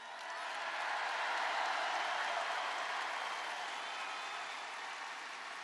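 Steady, dense applause and cheering from a large crowd at a Trump political rally, sustained and loud for the whole stretch with no break.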